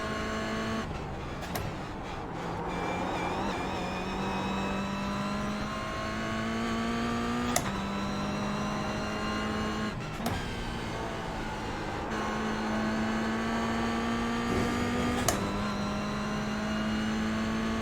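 A GR Cup race car engine in a racing game holds a steady, loud drone through a long stretch, pitch climbing gradually within each gear before sharp shifts every few seconds, with no talk.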